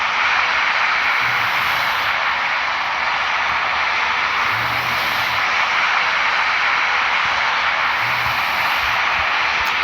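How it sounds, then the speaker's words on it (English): An airplane at a Tokyo airport roars steadily and loudly throughout, a continuous broadband engine rush with faint low pulses underneath. "look at the plane"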